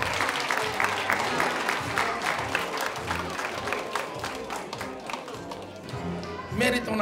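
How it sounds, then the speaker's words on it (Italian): A circus audience gives dense, sustained applause after a performer's counting trick, rapid overlapping claps with crowd noise throughout. "Merita un applauso"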